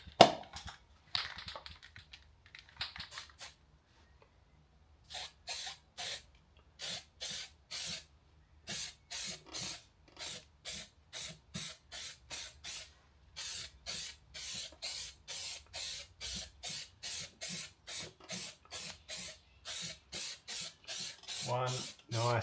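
An aerosol spray can lays a coat of paint onto a car kick panel in a backyard shop, coming as a long series of short, regular hissing bursts with brief pauses between.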